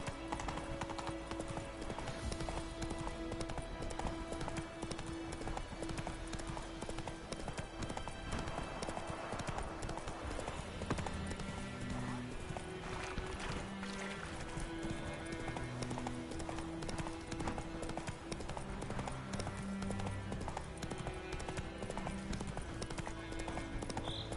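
Steady clip-clop of horse hooves from a galloping mount in The Witcher 3, rhythmic and continuous under game music and ambient sound.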